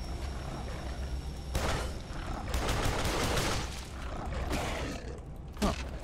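Gunfire in Duke Nukem Forever, a burst of game shots and impacts over a dense synthetic mix, with a sharp crack near the end.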